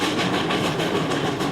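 Western Maryland Scenic Railroad train rolling along the mountain rails, a steady loud broadband rumble with faint rhythmic pulses like clickety-clack, continuous throughout with no voices.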